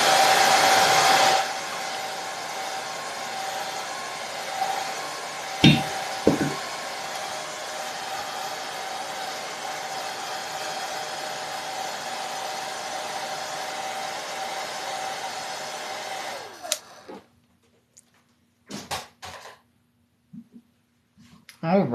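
A hair dryer blows steadily and loudly on wet paint for about sixteen seconds with a constant whooshing hum and faint clicks, then shuts off, leaving near silence broken by a few small handling taps.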